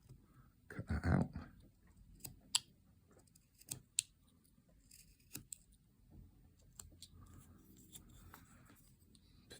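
Knife whittling wood while carving a Kratos figure, faint scattered scraping cuts and small clicks, one stronger rasping stroke near the start, close and quiet with no talking.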